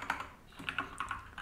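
Rapid typing on a computer keyboard while writing code in the Neovim editor: a quick, uneven run of light plastic key clicks, close and fairly quiet, with no voices.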